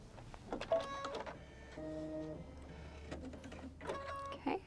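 A Kimberbell embroidery machine stitching a red placement line for a watermelon quilt block gives a steady mechanical whir with tonal hum, in bursts between quieter pauses, close and moderately loud.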